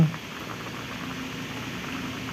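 A pot of ginataang tambakol (tuna in coconut milk) bubbles at a steady boil, a soft continuous rolling hiss close by, with no one speaking.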